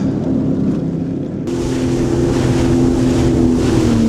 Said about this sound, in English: The wake from that last big boat that went by. Oh, a lot of chop.